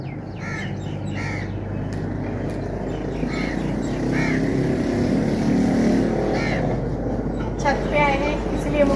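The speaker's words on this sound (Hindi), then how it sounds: "बाइक की आवाज़ें हैं" Motorbikes pass along streets below a rooftop, their engine drone swelling midway and fading, under repeated crow caws and other birds.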